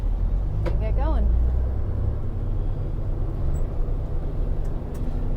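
A Kenworth dump truck with trailer pulling away after its air brakes release, a deep diesel engine rumbling steadily close by, a brief hiss near the start, and a voice speaking over it.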